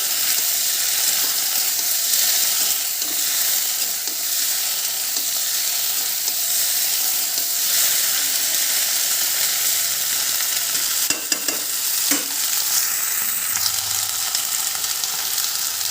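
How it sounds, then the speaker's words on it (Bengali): Masala paste fries and is stirred in a pan for a fish curry with okra, a loud, steady sizzle broken by a few scraping knocks of the spoon, with no voices. "এই মশলাটা ভালো করে একটু কষে নিই"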